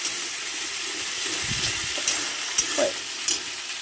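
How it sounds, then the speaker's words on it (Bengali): Spice paste for a homemade chicken curry fries in a pan, giving a steady close sizzle with a few scraping stirs and soft clinks throughout. "মশলাটা আমি আস্তে আস্তে একটু কষে নেব।"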